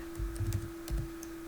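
Typing on a computer keyboard, a brief flurry of soft close keystrokes in two short clusters over a steady electrical hum, no voices.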